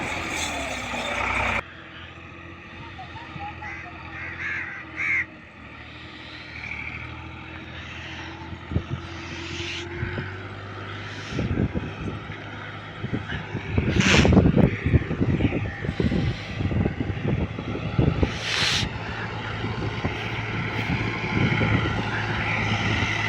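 A Millat tractor engine runs steadily with a low droning rumble throughout, swelling into louder, rougher bursts about midway before settling back to a steady hum.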